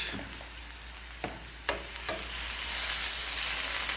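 Beef searing in bacon fat for beef bourguignon gives a loud, steady frying sizzle, with a few sharp utensil taps and stirring scrapes in the first half.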